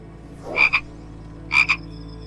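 A frog gives two close, loud croaks about a second apart, each a quick double-pulsed rasp over a quiet, faintly humming background.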